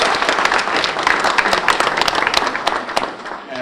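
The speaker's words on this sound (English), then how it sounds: "So a big round of applause one more time for our" An audience at a student research awards ceremony applauds in a dense, steady burst of clapping that fades slightly at the close, with speech mixed in.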